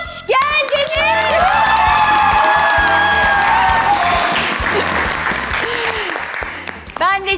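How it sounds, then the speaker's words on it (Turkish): Studio audience applauding and cheering on a Turkish TV cooking competition, a steady, loud wash of clapping with whoops and melodic music running underneath, fading slightly toward the end. "Ben de sizi alkışlıyorum."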